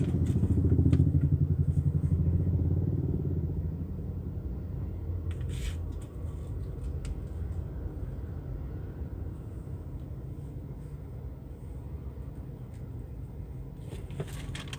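Jammed road traffic at Handil Bakti, a steady rumble of motorcycle and car engines idling and creeping along nearby, with occasional clatters and a louder engine swell at the start.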